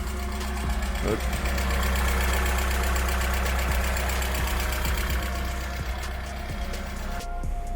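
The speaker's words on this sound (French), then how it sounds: "le moteur il tourne vraiment super rond" A Mazda MX-5 NA Miata turbo project car idles steadily right after starting, running smoothly with an even low rumble and a regular mechanical tick. Someone briefly speaks over it at close range.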